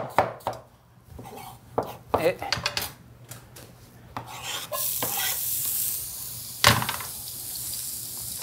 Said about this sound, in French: Et on va la faire cuire un petit moment, juste parce qu'elle devient translucide.